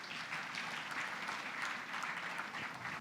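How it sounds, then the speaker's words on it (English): A steady wash of audience applause welcoming a lecture speaker, many hands clapping together at a constant level throughout, with no voices standing out. "please welcome him with a big round of applause."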